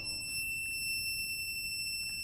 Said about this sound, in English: I'm going to insert the battery. It starts to beep, and then some lights will turn off or on